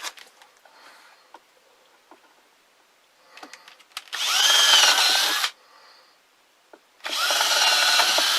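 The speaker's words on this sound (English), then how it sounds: "I'll drill a few." Power drill boring holes in wood while a pigeon trap is built, two loud bursts of about a second and a half each separated by a pause, with faint handling clicks and knocks between them.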